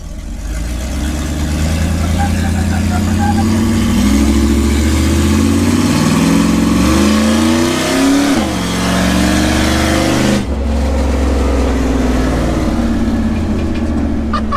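Car engine revving hard during burnouts in a garage setting, a loud sustained roar rising and falling in pitch with a brief drop before climbing again, close and continuous with no talking.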